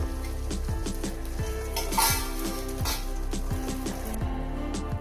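An egg fries in a pan with a faint sizzle, while a metal utensil repeatedly clinks and scrapes against the pan in an uneven rhythm close by.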